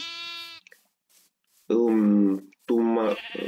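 Little sheep in a video game give high, wavering bleats, two bursts after a short opening cry, loud and near with gaps of silence between.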